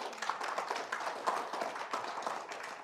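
A church congregation clapping together in praise to the Lord, a dense, steady patter of many hands heard from a moderate distance, fairly quiet and continuous with no voices standing out.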